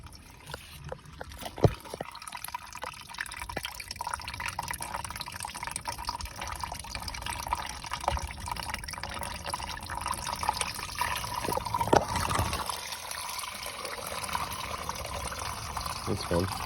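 Coolant drains steadily from a Lexus IS300 during a water pump replacement, a continuous close trickle and splash of liquid with a few clanks, while someone talks intermittently.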